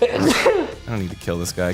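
A sharp, loud sneeze at the very start, immediately followed by someone speaking.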